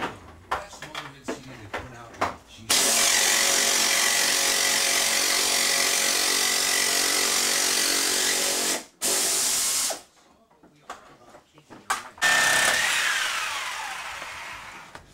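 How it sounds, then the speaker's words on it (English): A power tool cuts through a stuck bolt on a Jeep during front-end lift work in a garage, giving a loud sustained grinding whine for several seconds that stops briefly and restarts, with short bursts of talk at the start. "When you can't get the bolt out, you cut"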